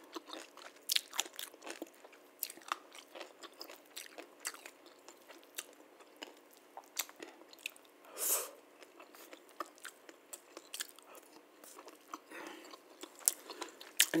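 Close-up chewing of pickles that have gone slightly soft, with repeated wet bites, crunches and squishy mouth sounds in a loose rhythm, recorded very near the mic and with no talk.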